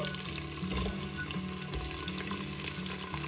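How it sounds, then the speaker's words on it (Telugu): Potato, carrot, cauliflower, bean and green pea pieces frying with onions and green chillies in a pressure cooker, an even close sizzle with occasional stirring scrapes, quiet and without speech. "ఉల్లిపాయలు కొద్దిగా వేగాక దీనిలో కూరగాయ ముక్కలు వేసుకుందాం."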